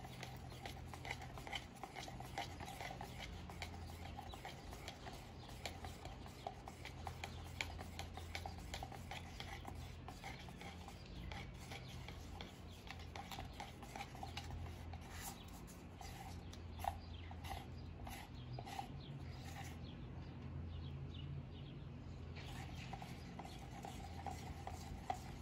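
Epoxy resin being stirred in a cup, a steady close scraping and swirling of a stick against the cup walls that keeps a continuous rhythm with no talk.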